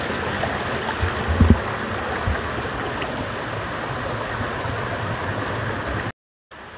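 Water overflowing at the Dharan water supply intake, a continuous close rushing roar of flowing water with a few louder splashes early on, steady throughout before a sudden cut.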